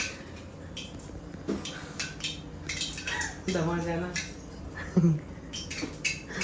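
Brand-new pots and utensils being scrubbed and washed, with scattered metallic clinks and scraping under overlapping household conversation.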